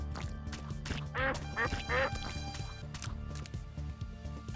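A stream alert plays a duck quacking on a Super Meat Boy gaming stream, a few bright quacks in a row over steady game music and background sound.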